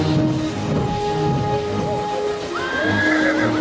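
Horses whinny several times while hooves clop along in the background, steady and fairly close.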